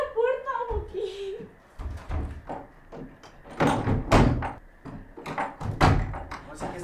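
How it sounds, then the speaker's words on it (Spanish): A locked door is tried and won't open: repeated thumps and rattling knocks come in uneven bursts, mixed with overlapping voices speaking close by. "No, no abre, no abre la puerta, Joaquín."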